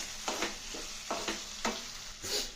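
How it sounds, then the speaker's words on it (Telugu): Prawns fry in a pan while green chilli slices and garam masala are stirred in, giving a soft steady sizzle broken by four or five scraping strokes of a spoon at a loose, uneven rhythm. "ఇప్పుడు దీనిలోకి ఇదిగో కొంచెం 2 పచ్చిమిరపకాయ చీలికలు, కొంచెం గరం మసాలా వేసి బాగా కలుపుదాం"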